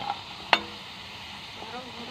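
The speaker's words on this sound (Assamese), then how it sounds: "এইখিনি মই এতিয়া অলপ দেৰি এনেদৰে ভাজি, এতিয়া মোৰ আলু ভজা হৈ গ'ল" Potatoes frying in oil give a low, steady sizzle, interrupted by one sharp clink of a utensil against the pan.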